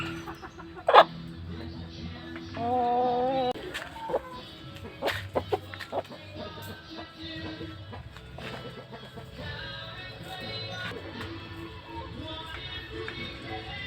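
Native hens cluck intermittently in a backyard coop, with a loud squawk near the start, a drawn-out call soon after and scattered softer clucks, while a person talks quietly in the background.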